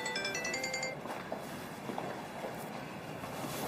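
A phone ringtone plays a short run of bright, repeating electronic tones for about a second, then cuts off, leaving a quiet room tone.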